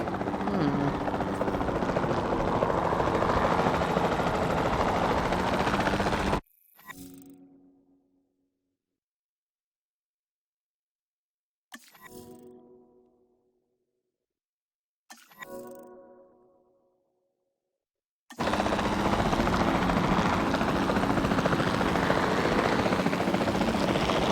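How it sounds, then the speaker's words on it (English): A capture team helicopter in the video game Jurassic World Evolution 2, a loud steady rotor roar that cuts out abruptly, with brief bursts of sound in the gaps before the helicopter drone returns at full volume. "Then the sensible thing is to take a capture team helicopter"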